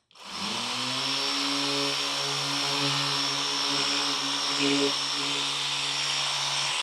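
A Rotopower drill-powered pressure washer spraying hard, a loud, steady hiss of water over a continuous motor whine with no breaks.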